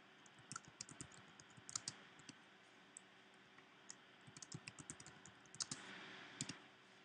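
Irregular keyboard clicks and mouse taps come in scattered bursts, fairly close and crisp, with brief pauses between flurries and no talking.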